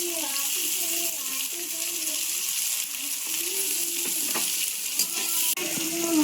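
Eggplant and yardlong beans from a home garden frying in a worn nonstick wok with salt and turmeric, a steady loud sizzle with occasional stirring scrapes and clinks, while a voice talks over it.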